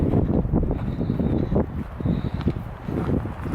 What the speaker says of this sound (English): Got a little bit of wind.